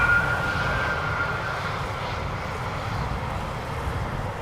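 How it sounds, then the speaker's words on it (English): An Embraer 190 jet lands at Amsterdam Schiphol on a hot, sunny day, its engines a loud, sustained roar with a faint whine, easing gradually as the aircraft passes. "Embraer 190 having returned from Aberdeen."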